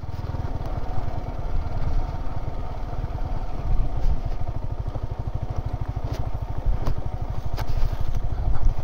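A motorcycle engine revs unevenly while riding off-road, with a rapid pulsing throb and rattling clatter that stays loud and close throughout and no voices.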